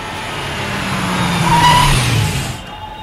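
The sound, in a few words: car engine as car is stopped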